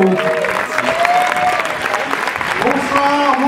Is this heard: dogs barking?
no